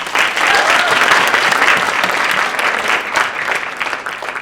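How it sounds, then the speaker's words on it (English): Steady, dense audience applause for a guest speaker at a student talk on human trafficking, loud and sustained throughout. "let's give a huge round of applause for Chris"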